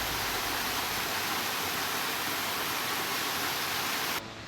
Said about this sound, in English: we came across this stream with two little waterfalls, which was really nice.